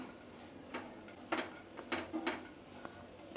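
Charoli, almond slices and cashew slices are stirred in ghee in a pan, with a faint sizzle under scattered clinks and scrapes of a spoon against metal.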